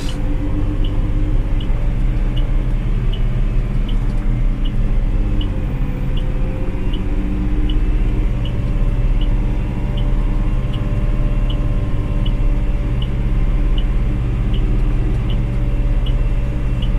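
A Massey Ferguson 5610 tractor drives along a road with a steady, loud engine rumble that holds a constant drone and a faint regular ticking throughout.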